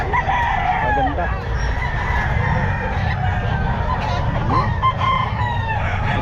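A full stag rooster for sale at the Bocaue pet market crows and clucks among other fowl, loud and close, with busy market chatter running underneath throughout.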